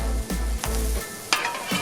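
Sweet potato pancakes and pork tenderloin frying in a pan give a steady close sizzle, broken by a few short utensil scrapes and clinks as the pancakes are flipped.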